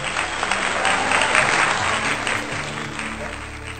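Loud, sustained applause from an audience at a Hindi poetry gathering honoring poet Krishna Kumar Pandey Gyani, dense clapping filling the whole stretch with crowd murmur underneath.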